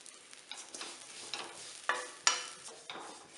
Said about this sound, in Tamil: இப்போ அவுள் எடுத்து வறுத்துக்கலாம்